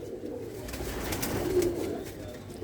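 A female pigeon coos softly while being held in someone's hands, a low murmuring coo rising briefly near the middle against a steady background, with no speech.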